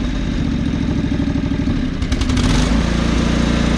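John Deere 445 lawn tractor engine running close and loud, a steady rumbling idle with rhythmic chugging that shifts slightly as it revs partway through.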